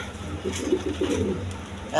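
A female pigeon and others coo in soft, low, rolling throaty bursts, close by and briefly repeated, against faint background noise.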